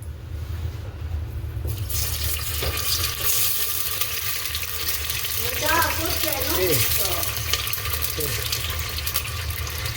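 Tomato sauce pours into a pan for pasta as a soft, wet rushing stream with a brief bubbling gurgle midway, heard close and at moderate volume.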